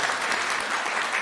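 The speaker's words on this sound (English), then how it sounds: "please applaud me if you wish." Audience applause fills a church sanctuary during a Sunday morning service, dense and loud clapping from many hands throughout a short burst.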